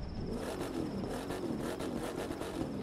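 A Chevrolet Corvette C3 engine in The Crew 2 holds a steady, loud, mid-pitched drone with a smooth whir, alone with no talk over it.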